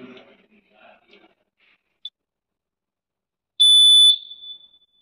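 A fire alarm control panel sounds its alarm while the battery is disconnected: a short chirp, then a loud steady electronic beep about half a second long, after a few faint murmurs of speech.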